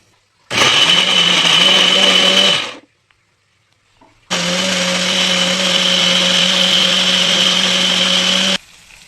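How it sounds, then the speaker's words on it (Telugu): A kitchen blender grinds ingredients into a thick curry gravy for a potato-tomato curry, running loud and steady in two bursts with a brief pause between them, no voices. "ఇది బ్లెండర్లో వేస్తే థిక్ గ్రేవీ వస్తుంది, అందుకని నేను ఇలా బ్లెండర్లో వేసి వేసుకుంటున్నాను"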